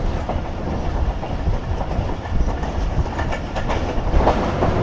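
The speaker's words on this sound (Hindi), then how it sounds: "ये 14 डाउन अवाम एक्सप्रेस का हम लोग इंतज़ार कर रहे हैं" 14 Down Awam Express passenger train, loud and close, with a steady rolling rumble and rhythmic clickety-clack of wheels over rail joints throughout.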